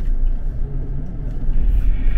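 A 4x2 car driving off-road over rocks: a loud, steady low rumble of engine and tyres grinding close by, without a break.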